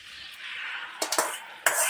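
A steady sizzle of mushrooms frying in oil in a hot pan, broken by a few sharp clatters and a louder burst of hissing near the end.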